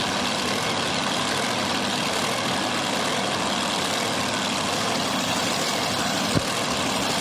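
Drag racing cars rumble at the start line at Beech Bend Raceway Park's Hot Rod Reunion: a loud, dense, unbroken engine roar fills the air, with a single sharp thump close to the end.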